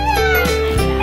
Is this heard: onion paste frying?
no